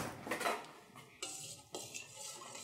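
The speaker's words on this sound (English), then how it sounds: "Now we want to take a spoon and stir it up" A spoon stirring an almond milk drink mixture, quiet clinks and scrapes against the container in a few separate strokes, close and alone without talk.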